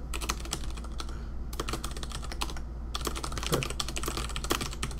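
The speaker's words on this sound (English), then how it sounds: "I'm going to type something." Rapid, steady clicking of keys on a computer keyboard continues at close range over a low background hum, with no talking.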